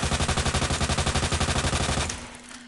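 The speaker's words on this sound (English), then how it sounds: "it's better to shoot the legs." Rapid automatic gunfire from the Resident Evil 2 Remake video game, a steady loud burst of evenly spaced shots lasting about two seconds before cutting off into a fading tail, with no talking.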